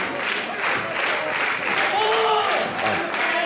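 A wrestling crowd at a live tag-team match cheers and applauds in a steady roar, with a commentator's voice running over the noise.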